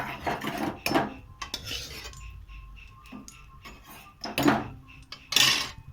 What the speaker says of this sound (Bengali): আমি দুটো লঙ্কা আর একটু তেল সমেত তুলে রেখে দিচ্ছি।